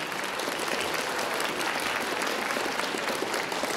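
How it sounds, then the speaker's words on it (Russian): Audience at a music school concert applauding for a young performer, a dense, even clapping that holds steady and fairly loud throughout, with no voices. "Где аплодисменты?"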